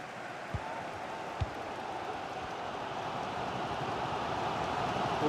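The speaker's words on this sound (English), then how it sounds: "Well, just listen to this crowd." A steady crowd roar fills a stadium during a simulated England versus France football match in a FIFA video game, a continuous broad wash of massed voices with a couple of brief thumps near the start.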